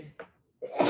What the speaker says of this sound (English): But I sneezed into my sleeve.